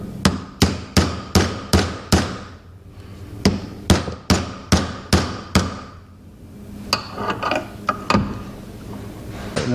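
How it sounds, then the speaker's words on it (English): Work on the nut of a Workhorse master cylinder with a new hydroboost: two sets of six sharp, evenly spaced metallic clicks, like a ratchet, then a looser run of lighter clicks and clatter. "So now the next thing is just to tighten this nut."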